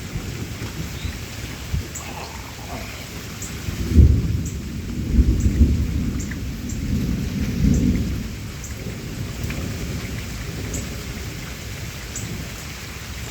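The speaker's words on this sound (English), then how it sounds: "Ready for the thunder?" Steady rain falls on surfaces while thunder rolls and rumbles through the middle of the storm, a sustained hiss of drops under deep, swelling booms, with no voices.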